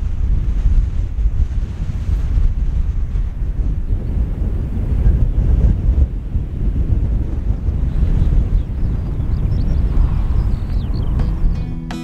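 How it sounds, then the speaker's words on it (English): Strong wind buffets the microphone in a constant low roar, with surf washing in the background. "Now it's really windy up here"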